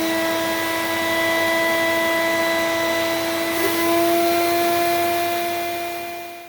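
A steady, loud mechanical whine with a strong hum and tonal harmonics runs throughout as a vacuum former pulls heated plastic down over seat buckets, easing off at the very end.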